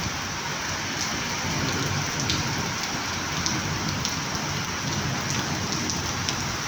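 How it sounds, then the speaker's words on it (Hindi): Steady rain pours down in Madina, a dense, even hiss of drops on hard surfaces that carries on without a break and stays fairly loud. "बारिश हुई है मदीने में"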